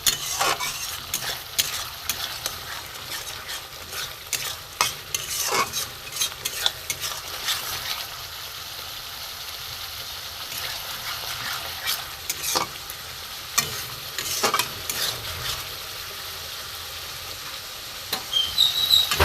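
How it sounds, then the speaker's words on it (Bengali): Spice paste with a spoonful of sugar is stirred and fried in a pan for a vegetable curry, a soft constant sizzle broken by repeated scraping strokes of the spoon, irregular and close, no talking. "ভালো করে একটু কষিয়ে নিই মশলাটা।"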